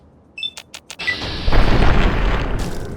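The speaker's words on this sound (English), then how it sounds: "when you shoot things with a shotgun and they have like no weight to them" A few quick clicks and a bright chime, then a heavy booming shotgun blast from the Fallout 3 game, loud with a long rumbling tail and no talk.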